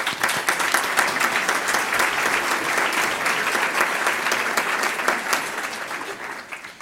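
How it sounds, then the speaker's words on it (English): Sustained audience applause at a Columbus Metropolitan Club forum on nonprofits, dense and steady clapping from a crowd indoors that holds at full strength throughout before easing slightly at the end. "Please give them a round of applause."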